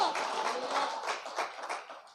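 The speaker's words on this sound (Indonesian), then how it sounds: "Kasih tepuk tangan buat Tuhan." A church congregation claps in praise during a sermon, a brief, fairly soft burst of many hands clapping together that tapers slightly toward the end.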